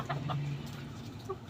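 A street comb rooster clucks softly in a few low, brief calls close by, with farmyard background noise.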